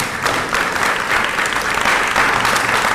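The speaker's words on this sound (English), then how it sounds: "How about a round of applause for these brave young individuals?" A crowd at a youth council swearing-in ceremony gives the new members dense, sustained applause, loud and continuous for the full three seconds.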